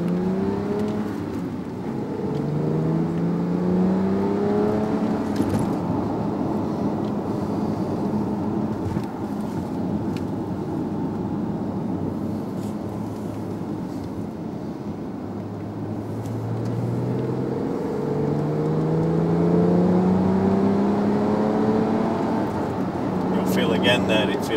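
A 2011 Porsche 911 Carrera 4 GTS accelerates on a UK road, its engine note climbing through the gears in repeated rising sweeps heard from inside the cabin, with a driver talking over it.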